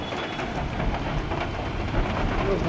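Steady rain pours down in the hills of Sikkim and Darjeeling, a dense continuous wash of hiss and patter with a low rumble beneath, holding at an even level throughout.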